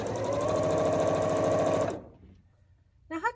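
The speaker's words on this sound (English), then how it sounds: "Now I'm going to sew this strip again" A sewing machine runs steadily, stitching a fabric strip for a sampler quilt block with a fast, even motor whir for about two seconds before stopping abruptly, followed by faint handling noise.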